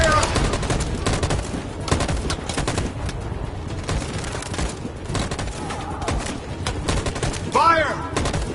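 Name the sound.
gunfire volley in Detroit: Become Human video game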